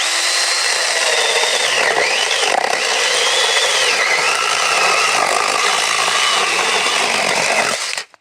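A cordless TEX AC.TAOE S4 chainsaw with a longer bar cuts small wooden blocks about 10 cm long, making a loud, steady, close-up buzzing whine that runs without a break and then cuts off abruptly at the end.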